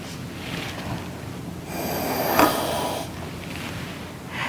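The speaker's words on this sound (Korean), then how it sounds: "캔 사이에 바람을 불면 캔을 손을 대지 않고도 붙일 수 있습니다" A person blows a steady breath of air into the gap between two cans for a school science demonstration, a breathy whoosh lasting over a second, close to the microphone amid faint background noise.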